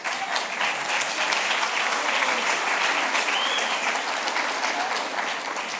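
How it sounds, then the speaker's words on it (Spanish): An audience at a church Easter congress plenary session gives Emma loud, sustained applause that runs evenly for the full few seconds, dense clapping with no pauses. "Así que, por favor, un aplauso para Emma."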